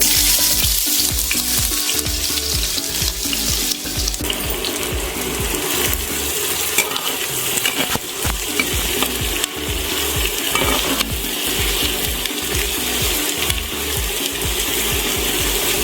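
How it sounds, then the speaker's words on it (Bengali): Chopped onions fry in hot oil, giving a loud, continuous close sizzle with steady crackling and spatter for the whole stretch, with no talk over it. "গরম হয়ে গেছে আমি এবার পেঁয়াজ কুচিটা দিয়ে দিচ্ছি"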